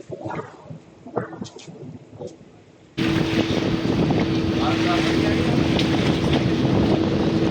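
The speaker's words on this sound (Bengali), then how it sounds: "আমরা ওয়াটার বাসে যাচ্ছি" A Venice water bus under way: after a quieter opening with faint voices, a loud steady engine drone with wind and water rush takes over and carries on without a break.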